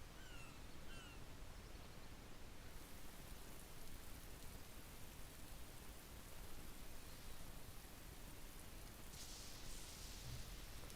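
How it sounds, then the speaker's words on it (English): Steady rain falls on a thundery night in the video game Atelier Ryza 2, a constant soft hiss throughout with a faint rumble low in the mix and a brief brighter swell near the end. "Oh, it's a rainy, thundery night."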